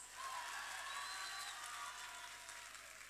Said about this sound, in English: Shall we give them a final round of applause?